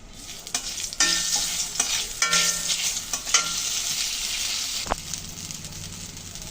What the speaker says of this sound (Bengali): আমি এখন ফোড়নে দিয়ে দেবো একটা শুকনো লঙ্কা আর একটা তেজপাতা।